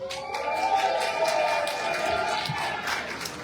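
A crowd cheers and shouts at a metal armored fighting event, a dense sustained roar of many voices from the stands that holds steady throughout.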